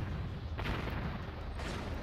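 Ripple rocket artillery fires in the Warzone 2100 video game: a steady low rumble with two broad whooshing bursts of launches, loud and close, with no talk over it.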